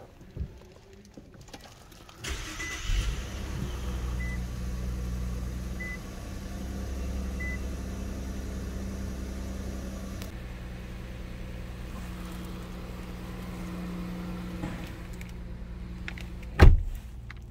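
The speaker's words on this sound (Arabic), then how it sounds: "أسمعكم الآن صوت تشغيل الإنفينيتي Q50" After a quiet start, a 2022 Infiniti Q50 sedan engine cranks via push-button start and catches, then settles into a steady low idle hum, with a sharp click near the end.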